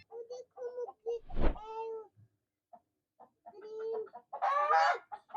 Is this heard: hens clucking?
yes